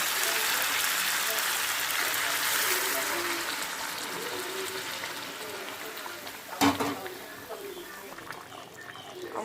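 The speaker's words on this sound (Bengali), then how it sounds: "গরম জলটা এখন আমি মাংসের ভিতর ঢেলে দেব।" Hot water poured into a pan of fried chicken meat, a rushing gush and sizzle close up that tapers off, with a brief clank near the end.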